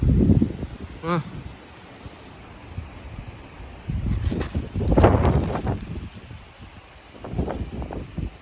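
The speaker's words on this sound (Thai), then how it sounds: "ลมแรงมากเลยครับ" Strong wind blowing over a rice field, gusting rough buffeting against the microphone in uneven surges, with someone speaking at times.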